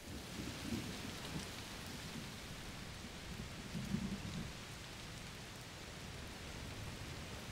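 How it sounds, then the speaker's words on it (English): Heavy rain falls steadily in the video game A Plague Tale: Requiem, a dense, even hiss with low thunder rumbling faintly underneath at a couple of points, and no voices. "Oh, it's raining a lot."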